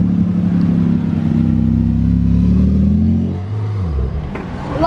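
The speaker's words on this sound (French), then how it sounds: "GT2 RS, ça fait toujours un de ces bruits ça" A Porsche GT2 RS engine revs loud and close, holding a high steady note for a few seconds before the pitch sweeps down as the revs drop away.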